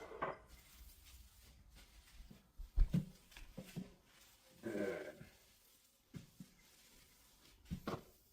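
A pot holding garlic is set onto a kitchen stove, giving a few scattered clunks and clanks of cookware, with a louder knock near the middle and softer handling noises between quiet stretches.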